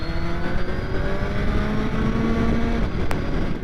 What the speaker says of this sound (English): Today I am riding a Suzuki Hayabusa